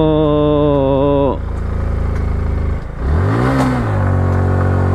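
A 150cc motorcycle on a Bandarban hill tour slips into neutral. A steady engine drone cuts off, then the engine is revved up in a quick rising and falling sweep, loud and close.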